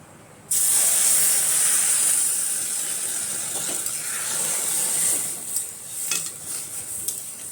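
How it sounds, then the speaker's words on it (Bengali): Fried mung dal lentils being rinsed with water. A loud, steady rush of running water begins abruptly after half a second and continues throughout, with a few soft knocks and splashes toward the end and no talking. "আমি এবার ডালটাকে ধুয়ে নেব জল দিয়ে"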